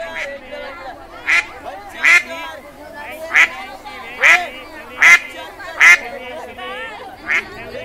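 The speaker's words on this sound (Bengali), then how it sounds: "কি মোটা মোটা হাঁস!" Fat ducks quack at a cartoon market in Bengal, with seven loud, evenly spaced honking quacks standing out over a steady murmur of background chatter.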